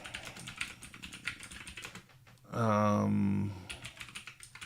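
Quick keystrokes on a computer keyboard rattle steadily, close and fairly quiet, briefly interrupted by a short spoken word before the typing resumes.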